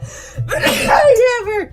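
A single sudden sneeze bursts out mid-speech, with a voice talking over and around it.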